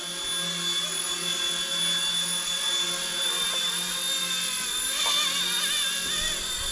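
A Motion RC mini remote-controlled helicopter hovers and spins nearby. Its small rotor and motor give a steady, high-pitched whine with a buzzing drone, constant and fairly loud throughout.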